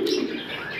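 Fancy pigeons kept for sale give a soft, low coo, close by and steady for a brief moment, with a faint chirp behind it.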